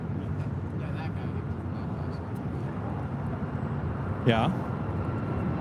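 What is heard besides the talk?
United Airlines flight 1374 taking off to Denver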